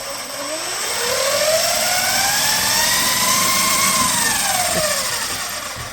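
Maverick Quantum RC basher's electric motor spinning the wheels at half throttle on a stand, a steady rising and falling whine that swells, holds for several seconds, then eases off, close and loud.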